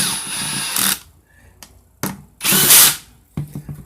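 A power tool spins valve body bolts down on an automatic transmission valve body, in short bursts of whirring separated by quiet gaps, close and loud, with no talk.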